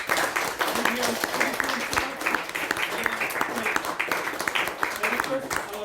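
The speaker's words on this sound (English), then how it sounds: "let us have a round of applause" A roomful of listeners at the close of a session breaks into a dense, lively round of clapping that carries on for several seconds, with scattered voices mixed in among the claps.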